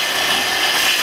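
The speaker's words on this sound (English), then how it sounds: "Now here I'm using my track saw" A track saw trimming the tongue off tongue-and-groove wooden boards gives a steady, loud, close broadband whine and rasp that holds evenly for the whole short stretch.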